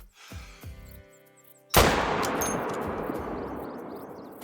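A hunting rifle fires once at a whitetail buck in the Call of the Wild hunting game, a single sharp, loud report that cracks suddenly and then rolls out into a long, fading echo over quiet forest ambience.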